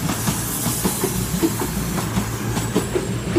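A passenger train passes a level crossing at Exeter St Davids in Devon, its wheels rolling with a steady rumble and rhythmic clickety-clack of rail joints, heard close and loud without talk.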